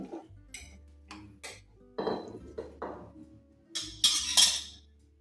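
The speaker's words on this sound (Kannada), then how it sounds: "ಈಗ ಕುಕ್ಕರ್ ಮುಚ್ಚುತ್ತಾ ಇದ್ದೀನಿ." A pressure cooker lid is fitted and closed in a home kitchen, a series of separate metallic clinks and clanks, a few quiet and a cluster louder near the end, close by with no talking.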